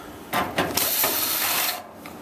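A socket ratchet turns out the front drum support screws of a Maytag DE7600 dryer being rebuilt, giving a close, steady clicking and whirring burst of about a second and a half, with no talking.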